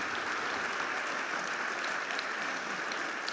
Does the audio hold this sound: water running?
no